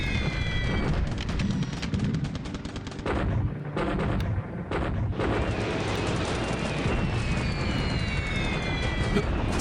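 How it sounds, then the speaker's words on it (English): Continuous, dense rumbling barrage of bombing explosions and gunfire over Hong Kong in the wartime strategy game War in the Pacific, loud and sustained throughout with brief dips, no speech. "Hong Kong being bombed."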